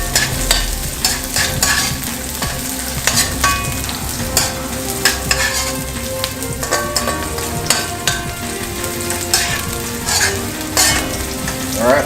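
Scallions stir-frying in a pan for Jamaican-style brown stew chicken produce a loud, continuous sizzle broken by frequent stirring scrapes and tosses, close up and with no talking.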